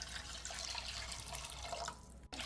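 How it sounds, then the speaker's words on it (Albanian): Water runs into a large pot for pickling peppers and cabbage, a steady moderate splashing pour that cuts off near the end, alone without talk. "Vazhdojmë që brenda tani të shtojmë 2 litra me ujë."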